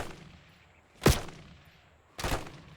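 Two loud, close shotgun blasts from a pump-action shotgun in Black Ops 6, roughly a second apart, each a sharp crack followed by a short decaying boom, with no talk.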